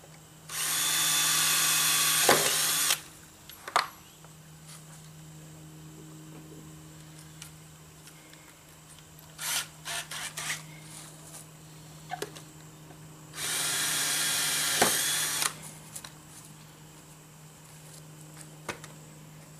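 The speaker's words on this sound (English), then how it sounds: "just with a little 1/8-inch drill bit" Two loud bursts of a small power drill with a 1/8-inch bit boring drainage holes in a pipe, each lasting a couple of seconds, with quieter handling clatter between them.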